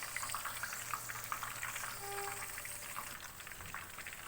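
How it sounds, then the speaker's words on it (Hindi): Chicken pieces frying in oil over a medium flame for a chilli chicken dish, giving a steady, close crackling sizzle with dense popping throughout. "ये देखिए फ्राई हो रही है।"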